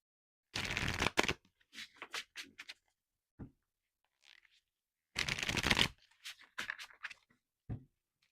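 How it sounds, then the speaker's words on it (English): Tarot cards being shuffled by hand, with two loud bursts of riffling close up, each followed by softer taps and slides as the deck is squared, separated by quiet pauses. "Let's go ahead and pull a couple more cards, Scorpio."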